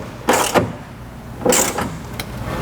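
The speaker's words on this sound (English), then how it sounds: "now we'll be tightening that down using a 13mm wrench" A 13mm wrench tightens a bolt on a Leitner Active Cargo System mount, giving two short bursts of ratcheting clicks about a second apart, followed by a faint single tick, close and alone.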